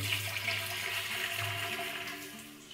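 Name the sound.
boiling water poured into a keg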